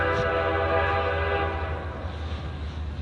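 A Norfolk Southern freight train rolls past at a railfanning spot in Chesterton, Indiana, its horn sounding a sustained chord over the low rumble of the moving cars, moderately distant and steady throughout.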